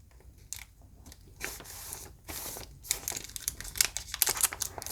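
Rough crinkling and ripping of thin washi tape torn by hand, in several short bursts that grow busier and louder toward the end, close by.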